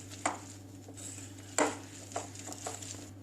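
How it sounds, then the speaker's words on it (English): A whisk scraping and tapping through chocolate biscuit cake batter as milk is mixed in, with a few sharp clinks against the bowl among softer stirring sounds, close and fairly quiet. "then whisk and mix everything very well"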